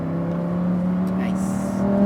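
A Lamborghini Huracan STO on the Las Vegas speedway track holds a steady, loud engine note as it accelerates, a continuous droning hum with a voice speaking briefly over it.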